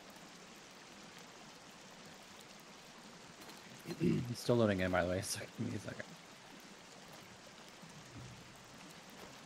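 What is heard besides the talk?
rain in the video game Sons of the Forest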